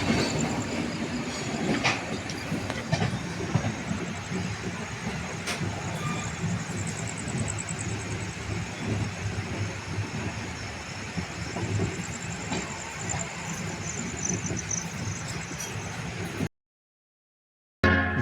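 A Duronto express on the Delhi to Secunderabad run rolls along the tracks in a continuous loud rumble, with rhythmic clatter of wheels over rail joints and occasional squeals, heard from inside the carriage before a brief cut to silence.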